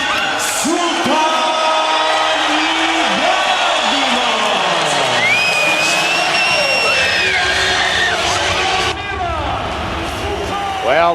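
Boxing arena crowd cheering and roaring for Evander Holyfield after a heavyweight title fight against Valuev, a dense sustained wall of cheers and whoops with a broadcast commentator speaking over it.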